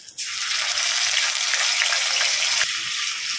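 Ginger-garlic paste frying in a hot pan gives a loud, steady, close sizzle that starts abruptly and holds its hiss throughout, with no voices.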